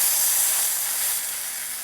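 A mayo-coated grilled cheese sandwich laid in a warm skillet; a close, bright, even hiss of sizzling that holds steady and eases slightly toward the end, with no talking.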